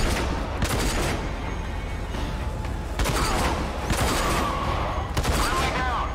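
Rifle shots ring out amid a dense, continuous barrage of game gunfire in RAGE, with sharp cracks near 0.7, 3 and 5.2 seconds standing out from the loud, steady battle noise.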